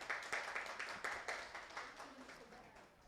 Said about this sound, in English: Let's give Ms. Taylor a round of applause